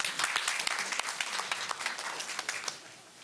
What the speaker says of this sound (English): Y'all gonna get tired of clapping